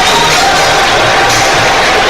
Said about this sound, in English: They're not, they're just singing, supporting their team.